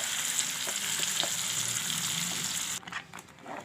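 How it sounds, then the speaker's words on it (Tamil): Papaya paste frying in ghee in a kadai, a loud steady sizzle that cuts off abruptly near the end, followed by a quieter bubbling stir. "அதே நெய்யில் இந்த பப்பாளி பழத்தை அரைச்சி விழுதெல்லாம் எல்லாம் போட்டுக்கலாம்"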